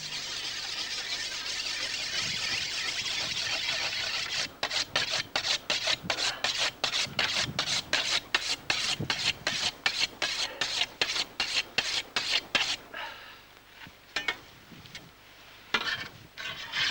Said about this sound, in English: There was a certain charm in sharpening the scythe. A sandstone is used in this instance.